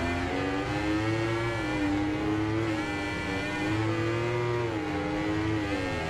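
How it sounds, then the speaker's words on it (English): Rival motorcycle engines whine in the RIDE 2 racing video game, a steady, loud, high-pitched drone that rises and dips in pitch as the bikes accelerate and shift gears. "You can definitely hear the other bikes a lot clearer now as well."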